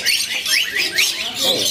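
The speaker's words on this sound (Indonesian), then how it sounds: "jalak kongkongnya langsung pada gacor semua ya" A black-winged starling sings a quick series of bright, rising whistled chirps, loud and close, repeating in short bursts at a bird market.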